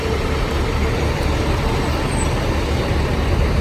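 Trucks and traffic at the TA truck stop in Big Spring at night, a loud continuous engine rumble and road noise, with a brief hiss near the middle.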